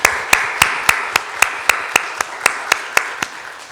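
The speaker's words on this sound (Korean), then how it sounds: "이분들을 위해서 좀 감사의 박수를 한번 하겠습니다." A church congregation claps together in thanks, about a dozen sharp, evenly spaced claps in a steady unison rhythm, close and loud with no talking.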